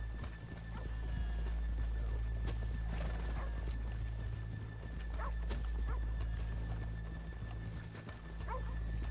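Horse hooves clip-clop steadily in Red Dead Redemption, with an occasional whinny and a distant dog bark over a constant low rumble of town ambience.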